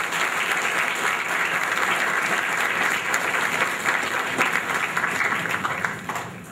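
A church congregation at a novena for Our Lady of Guadalupe breaks into loud, sustained applause, a dense even wash of many hands clapping that fades slightly at the very end.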